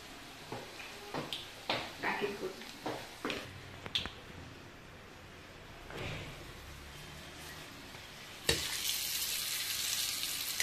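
Hot tempering poured into roasted white brinjal chutney: a few clinks and taps of utensils, a quiet lull, then a sudden loud sizzle that bursts out and keeps hissing steadily to the end.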